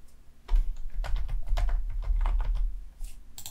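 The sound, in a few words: typing a folder name on a computer keyboard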